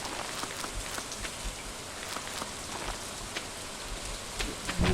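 Rain pours steadily during a thunderstorm in the farming video game Stardew Valley, a continuous hiss of drops with scattered patters, soft and even, no talking.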